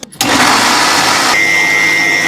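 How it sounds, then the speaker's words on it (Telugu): After a brief clatter, a mixer grinder grinding coconut starts up and whirs loudly and continuously, its motor pitch shifting slightly partway through. "ఈ మిక్సీలో వేసుకొని వచ్చినానండి కొబ్బరిని"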